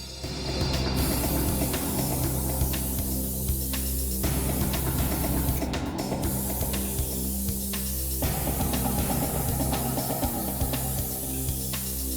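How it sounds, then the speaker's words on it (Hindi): A special forensic spray is sprayed all around the inside of a lift, giving a continuous broadband hiss that holds steady and loud over a low background hum, with no talking. "लिफ्ट में चारों तरफ अच्छी तरह से स्प्रे कर दें,"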